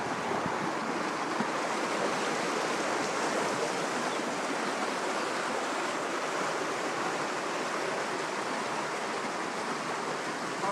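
A stream of snowmelt from Yellowstone National Park flows in a constant, dense roar through farmland in the Bighorn Basin, steady and unbroken throughout, with no voices.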